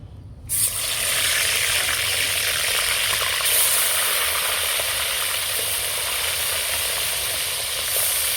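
Rohu fish frying in hot mustard oil in a pan, a loud, steady, close hiss and sizzle that bursts in suddenly and holds evenly to the end, with no voices.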